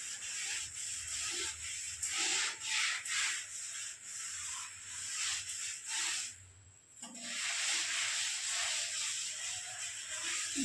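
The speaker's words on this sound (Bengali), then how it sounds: "জালিটা দিয়ে ঘষে নিলাম, তাড়াতাড়ি ভালো পরিষ্কার হয়ে যাবে" A mesh scrubber rubs over a sticky kitchen surface in repeated faint strokes, a soft hissing scrape that pauses briefly partway through.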